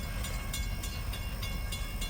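A Kiamichi Railroad freight train rolls past in the distance, a faint steady rumble broken by regular rhythmic clicks of wheels over rail joints.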